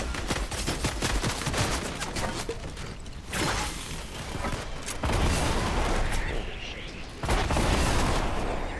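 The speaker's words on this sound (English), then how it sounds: "Shooting snowballs at us here." Rapid snowball launcher shots in the Fortnite video game fire in dense bursts, loud and close, with players talking over the repeated volleys and heavier thumping stretches.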